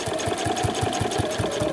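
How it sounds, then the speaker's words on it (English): Sewing machine stitching close to the edge through all the layers of a fabric travel wallet, with a steady rapid rhythmic thump of the needle under a constant motor hum, close and fairly loud, no talking. "I'm sewing right near the edge, just about half a centimetre in."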